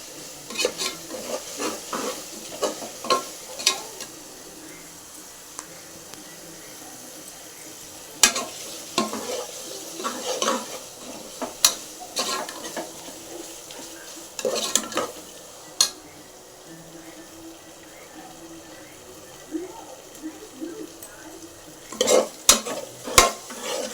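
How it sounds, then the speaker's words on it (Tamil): Onion and ginger garlic paste frying in a pan while being stirred, with a low, steady sizzle under repeated scraping and clinking of a spoon against the metal, close and uneven in rhythm, with no talking. "நல்லா வதங்கணும் இஞ்சி பூண்டும்"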